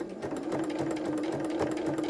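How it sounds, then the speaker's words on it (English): A sewing machine running slowly for free motion embroidery gives a steady, even whirring with a soft repeated stitching pulse, close and continuous, with no talk. "I'm just going to press the start button"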